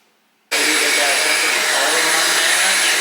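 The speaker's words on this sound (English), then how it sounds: "So we're going to vacuum it and hope it changes" A vacuum cleaner switches on abruptly after a brief near-silence, then runs with a loud, steady broadband roar and whine that holds continuously to the end.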